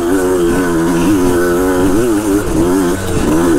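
A Yamaha DT-180 dirt bike with overinflated tyres rides a trail. Its engine buzzes loud and close, with the pitch rising and dipping as the rider shifts gears and rolls the throttle.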